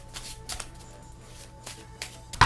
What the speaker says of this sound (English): you'll start off just by shuffling the deck